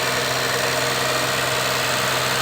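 A Daihatsu Xenia 1000 car engine idles steadily at close range during a carbon-cleaning treatment, a continuous low rumble with a faint vibrating hum and no other sounds.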